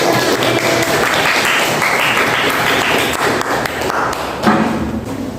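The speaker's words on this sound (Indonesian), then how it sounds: "Beri tepuk tangan untuk kelompok" A room full of people claps together, dense and loud applause sustained throughout with a few sharper slaps near the end.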